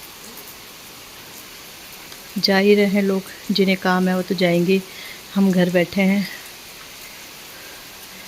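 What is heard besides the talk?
rain falling on ground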